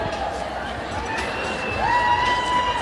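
Roller derby crowd in an arena during the Vaudeville Vixens vs Unholy Rollers bout, a steady roar of cheering and chatter that swells slightly near the end, with a thin whistle-like tone over it.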